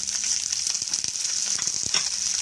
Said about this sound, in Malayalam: അടുപ്പിൽ ഉള്ളി നന്നായി മൂത്തു